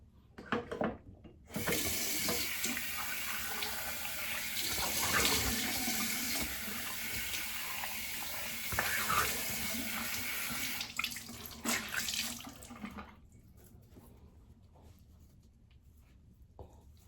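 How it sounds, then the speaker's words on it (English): A tap runs steadily for about eleven seconds, close by, as someone rinses their face with cool water after a single-blade shave, with faint splashes before it stops and quiet room noise follows. "I'm gonna rinse off with some cool water"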